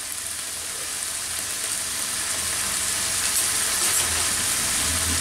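Bangladeshi-style dragon chicken fries in a pan with sauces, a steady close sizzle and crackle that holds evenly throughout with no talking.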